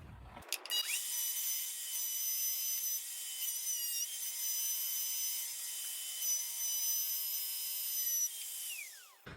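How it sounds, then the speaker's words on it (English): A router table cuts a slot into a wooden piece for a luthier clamp, a steady high-pitched motor whine with the bit chewing wood, starting abruptly and spinning down near the end. "I'm gonna set up my router table with a start and a stop block, and I'm gonna route this out."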